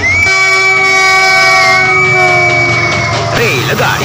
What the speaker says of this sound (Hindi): रेलगाड़ी रेलगाड़ी छुक छुक छुक छुक छुक छुक छुक